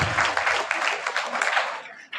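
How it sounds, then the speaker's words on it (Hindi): Applause from an audience at a school event in a village, a dense, continuous patter of clapping that holds steady for about two seconds, then thins and fades near the end. "सर के लिए एक बार जोरदार तालियां फिर से"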